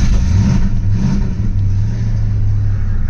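A car engine hums loud and close at high idle with a light throttle held while it warms up, a steady drone with small dips in pitch and no one speaking.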